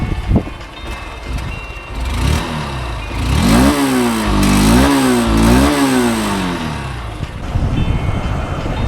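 Honda Unicorn motorcycle engine revved up and down several times, rising and falling close by and loud, with no talk over it.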